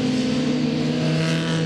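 Race cars on a track day, a continuous engine drone that holds steady and fairly loud through the short moment, with no voices.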